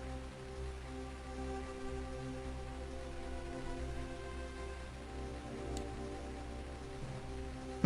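Rain falling in the Dragon Ball Z: Legacy of Goku 2 video game, an even, soft hiss of rainfall over a low, steady hum of game background music, continuous and fairly faint.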